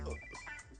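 A telephone rings in a short, faint burst of electronic ringtone tones, under a second long and heard alone.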